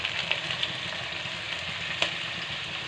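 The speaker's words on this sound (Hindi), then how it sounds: "अब हम इसमें मटन ऐड करेंगे।" Mutton frying in a karahi for white mutton karahi, a continuous close hiss of hot oil with a few faint clicks of the utensil, steady and unaccompanied by speech.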